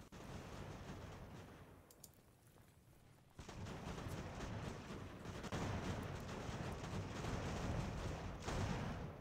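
Musket volleys from a flanking attack in the video game Ultimate General: American Revolution, in a Revolutionary War battle in the rain, a dense rolling crackle of fire that swells after a quieter stretch, faint and distant in level.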